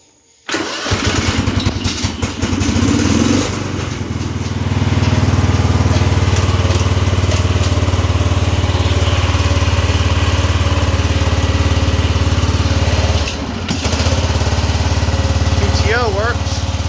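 A Cub Cadet lawn tractor engine cranks and catches, then settles into a loud, steady close-up idle that runs on for over ten seconds, with a short dip near the end.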